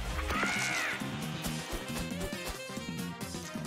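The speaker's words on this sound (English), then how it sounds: "Oh, loud bird." A loud harsh caw from the Loud Bird enemy in the video game Dicey Dungeons rings out once, sharp and near, over busy looping game music.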